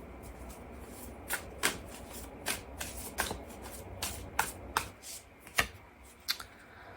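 Wild Soul Oracle cards being shuffled by hand, a series of crisp riffling snaps and slaps at an uneven rhythm, close and clear with no talking.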